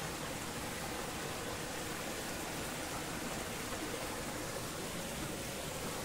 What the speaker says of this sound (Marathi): हे सगळं बर्फाचं पाणी आहे तो इकडे येत आहे